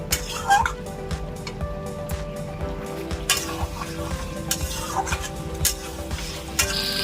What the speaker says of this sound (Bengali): আবার দেখুন ভালো করে কষিয়ে নিচ্ছি, এভাবে কষিয়ে নেবেন